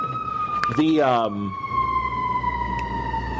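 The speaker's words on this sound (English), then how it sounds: "We'll let the ambulance go by." A siren wails and sweeps upward in pitch, loud and close, then holds a steady high tone as it passes, with traffic rumble underneath.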